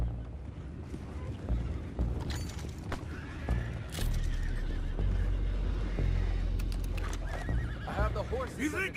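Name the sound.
horses neighing in video game Red Dead Redemption 2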